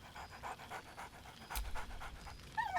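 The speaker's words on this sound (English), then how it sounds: "Scratch barks merrily in something like agreement." A dog in the video game Baldur's Gate 3 pants in quick, steady rhythmic breaths, close and fairly soft, with a brief louder bark-like burst midway.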